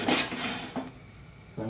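Water being spread across a hot iron tawa for ragi moong dal dosa, a steady broadband sizzle and scraping hiss with a few brief louder swishes, close and continuous, with no voices.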